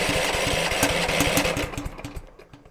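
A small engine with a compression release turns over on its electric starter during a compression test, giving a fast, even chugging rhythm of cranking pulses that slows and fades near the end.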